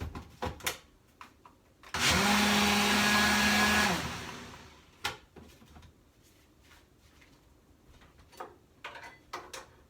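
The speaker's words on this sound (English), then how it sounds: "So I'm going to blend it in the Ninja." A Ninja blender whirs loudly for about two seconds while blending coffee with creamer, then winds down, followed by quieter clicks and handling knocks with no speech.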